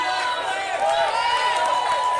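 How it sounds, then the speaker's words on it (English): A crowd cheers for a woman attempting a 401 lift at a powerlifting meet, with continuous loud shouting and vocal encouragement and some higher yells filling the hall. "They're cheering pretty hard for her."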